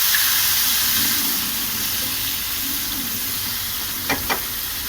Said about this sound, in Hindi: टमाटर को थोड़ा सा भूनिए।